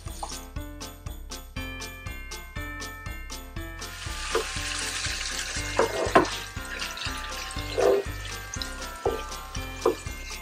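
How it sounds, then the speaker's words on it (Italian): Celery soffritto sautéing in a pan, a soft sizzling hiss rising after the first few seconds beneath steady rhythmic background music, with occasional stirring clinks. "e ora lasciamo soffriggere"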